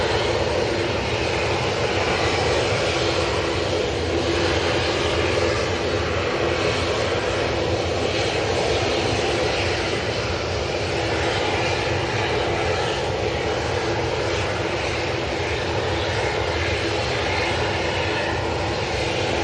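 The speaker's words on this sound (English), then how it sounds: "With some noisy planes. Really noisy planes." Loud, steady roar of noisy airplanes, an Airbus A330 among them, passing close overhead, a dense broadband engine rumble that stays constant throughout with no voices.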